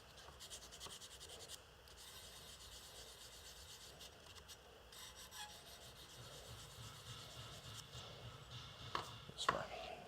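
Knife blade hand-polished with 600 grit sandpaper, a faint, steady scratchy rubbing of abrasive strokes close by, with a few small knocks near the end.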